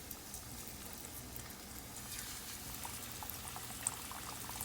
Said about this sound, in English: we're gonna fry our fish pieces